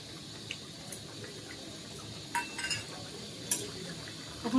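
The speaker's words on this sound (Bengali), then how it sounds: "এখন বাঁধাকপির মাছটা একটা পাত্রে নামিয়ে নেব" Cabbage vegetarian fish curry scooped from a pot into a bowl, quiet soft scraping and a few light clinks of utensil on cookware, faint and close with a low background hum.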